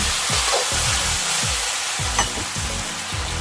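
A cashew chicken stir-fry with ginger and Japanese green onion sizzles steadily in a hot pan while a utensil stirs and scrapes it in quick, repeated strokes, loud and close.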